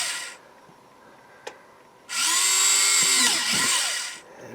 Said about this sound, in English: I just go and I get me a lot of holes drilled